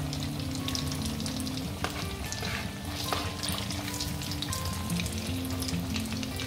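Potato cheese balls frying hard in hot oil over a high flame, a dense, steady crackling sizzle that runs close and loud throughout, with no voices over it.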